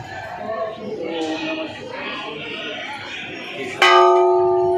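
Crowd chatter and children's voices fill the air at Aundha Nagnath temple in Hingoli, Maharashtra, then a single loud, large temple bell strikes near the end and rings on, slowly fading.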